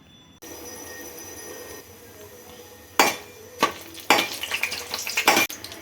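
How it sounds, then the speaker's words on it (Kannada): Coriander seeds and dried chillies fry in hot oil, starting as a faint sizzle and then breaking into several loud, sharp crackling bursts near the end. "ಈ ಎಣ್ಣೆ ಕಾದ್ಮೇಲೆ ಒಂದು ಚಮಚದಷ್ಟು ಕೊತ್ತಂಬರಿ ಹಾಕ್ಕೊಂಡಿದ್ದೀನಿ. ಅದ್ರ ಜೊತೆಗೆ ಒಂದು 5ರಿಂದ 6 ಒಣಮೆಣಸಿನ್ಕಾಯಿ,"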